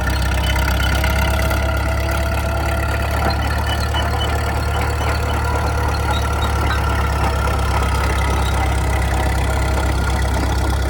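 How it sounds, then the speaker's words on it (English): The diesel engine of a 1958 CAT D4-7U crawler bulldozer, freshly revived after years of sitting, runs steadily on its first drive with a deep, loud, close rumble and a rhythmic knocking clatter, and no voices over it. "I'm gonna take it for a quick spin."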